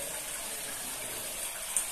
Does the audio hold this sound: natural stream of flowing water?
yes